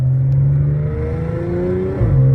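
A 2015 Audi S5 with a DSG gearbox and traction control off pulls hard under heavy acceleration, its engine note climbing steadily and loudly before a quick shift drops the pitch and it starts rising again.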